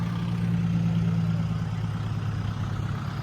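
A tractor engine runs nearby at a work site, a steady low rumbling drone with a throbbing hum and no talk over it.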